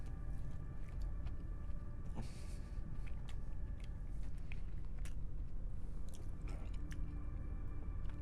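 Someone eating a snack while playing No Man's Sky, with soft close crunching and chewing sounds over a steady, loud game hum and engine drone.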